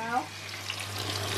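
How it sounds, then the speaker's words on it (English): Salmon fish frying in a hot pan, a steady close sizzle that runs through the whole short moment with a faint spatter near the start. "the second lot of the salmon fish will be going to fry now"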